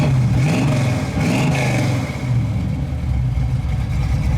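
A black 1969 Camaro RS/Z28 tribute V8 revs up and settles back, a loud, close, rumbling burble with short blips, its exhaust exiting just behind the rear axle with no tailpipes.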